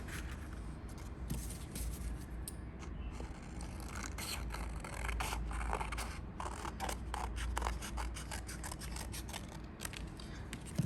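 Scissors cutting paper shapes for a relief sculpture: a long run of repeated crisp snips and papery scrapes at an uneven rhythm, close and steady, with no talking.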